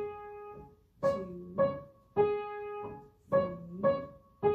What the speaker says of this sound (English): Now I'm going to come over to the piano and I'll show you how it sounds.